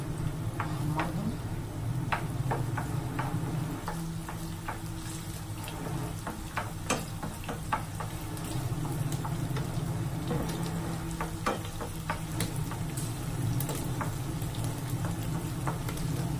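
Raisins frying in a pan of hot oil, a steady soft sizzle dotted with sharp little pops and crackles that runs evenly throughout at close range.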